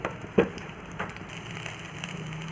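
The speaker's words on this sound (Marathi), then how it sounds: "इथे आपले ड्रायफ्रूट्स छान असे थोडे परतून घ्यायचे आहे" Dry fruits such as pistachios being lightly sautéed in a pan for coconut rice, giving a soft, steady crackle and sizzle with one brief louder pop near the start.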